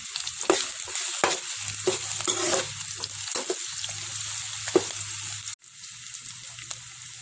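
Chopped green chillies, ginger and garlic frying in a pan for a banana-flower curry: a close, continuous sizzle broken by repeated spatula scrapes and stirs, with a brief dropout near the end.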